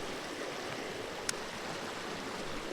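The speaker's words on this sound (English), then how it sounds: "here's some of that heavily oxygenated water" Heavily oxygenated water in a tiny trout creek rushing over rocks gives a steady, even hiss throughout, with one tiny click partway through and no voices.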